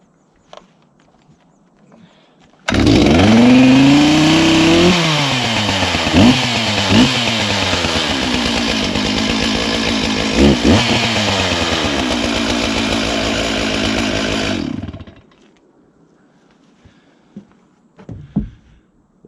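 A chainsaw on a homestead starts up and runs loudly and close for about twelve seconds, the engine revving up and down in several surges before cutting off into quiet.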